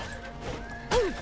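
A horse in the video game Oblivion neighs with a short, loud whinny about a second long, rising sharply over quiet background game sounds.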